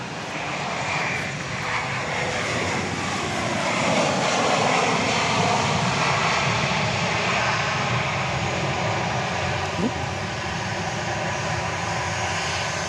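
A Southwest Airlines Boeing 737 Max 8 in a special livery lands at Dallas Love Field after dark, its engine roar rising to a peak mid-clip with a faint descending whine, then easing off while staying loud.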